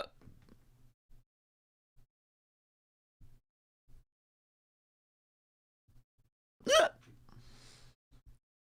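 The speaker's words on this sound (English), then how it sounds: "Oh, the burping. It's so painful." A man lets out several quiet gulping burps spaced apart amid near silence, followed by one louder, strained burp and a trailing groan.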